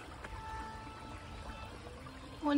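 Water flows in a clear mountain stream, a faint, steady wash of rushing and trickling with no voices.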